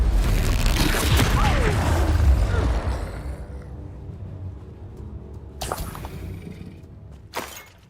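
Depulso force spell from Hogwarts Legacy, a loud shattering, booming burst up front that decays over a few seconds, followed by two shorter sharp crackling hits.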